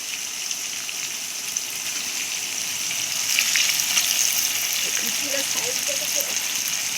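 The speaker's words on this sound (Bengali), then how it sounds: "এবার এর মধ্যে ম্যারিনেট করা মাংসটা দিয়ে দেওয়া হচ্ছে" Marinated chicken pieces for a homestyle chicken biryani frying in hot oil over browned onions, giving a steady, loud, close sizzle that swells midway, with a voice talking over it.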